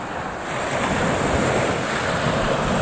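Strong wind buffets the microphone as sea waves surge and wash steadily at a river estuary, a loud, continuous roar with no talk.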